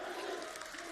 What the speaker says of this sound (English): it's funny they're just cheering for Alpha rather than cheering for Fnatic